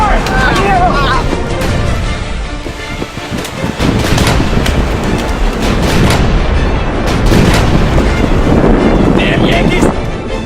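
Civil War battle reenactment with booming cannon and bursts of gunfire crackling through continuous loud noise, shouting voices layered on top, and wind buffeting the microphone throughout.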